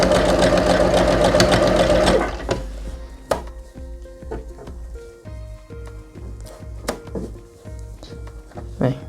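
A sewing machine stitches elastic under the presser foot in a loud steady whir for about two seconds, then stops, followed by quieter clicks and handling taps.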